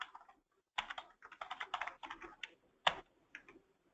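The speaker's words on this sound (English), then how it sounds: "You can type in a description for it." Computer keyboard typing while entering a description into payroll software, bursts of quick light key clicks with short pauses, close and fairly quiet, no voices.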